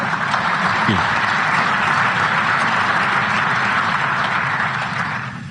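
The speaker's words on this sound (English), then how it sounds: "I hope that's not the last bit of applause that I get" Large audience applauding at a security conference in Munich, a steady broad wash of clapping filling the hall throughout, fading slightly at the very end.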